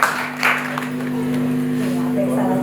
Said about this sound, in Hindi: इनके लिए एकदम तालियां बजाएं